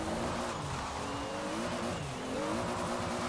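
A 1600 hp Toyota GT86 in Forza Horizon 4 spins its tires under partial throttle, the engine droning steadily while a harsh, continuous tire squeal sits close and loud over it.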